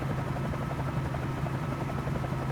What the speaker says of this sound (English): This helicopter flying around.